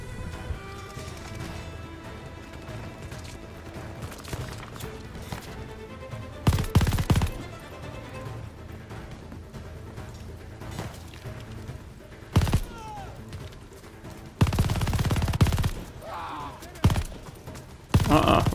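Gunfire in Call of Duty: Vanguard, with bursts of rapid automatic shots and a few heavy blasts over steady game noise, while a player talks and laughs.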